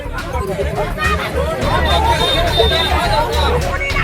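Protesters crowd a road in Samastipur, Bihar, their many voices merging into a steady, loud hubbub of overlapping chatter close at hand.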